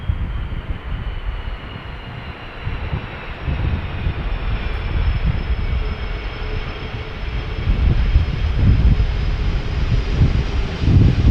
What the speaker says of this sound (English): Turkish Flight 1957 arriving from Istanbul.